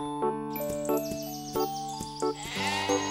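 Sheep bleat repeatedly in short wavering cries, several overlapping, with faint bell tinkling behind them.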